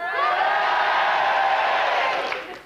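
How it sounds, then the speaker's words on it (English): A studio crowd cheers and whoops for a couple of seconds, a dense, bright swell of many voices that holds steady and then fades out. "Say hello to the crowd."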